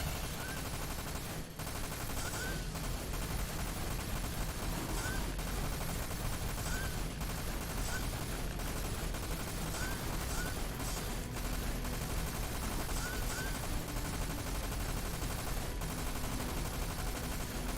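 Relentless turret gunfire in Dirge of Cerberus on PS2 roars continuously, a dense unbroken stream of rapid shots with heavy booms, loud and close throughout with no talk over it.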